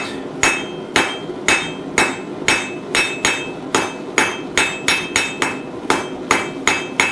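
Blacksmith's hammer striking hot metal on an anvil while tapering an arrowhead pendant to a point, about fourteen sharp ringing blows in a steady, even rhythm, close and loud with no talking.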